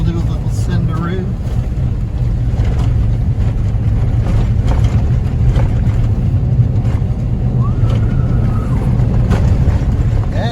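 Motorcycle lapping a motocross track, its engine a continuous low drone from start to finish, with wind buffeting the microphone throughout and a voice speaking over it.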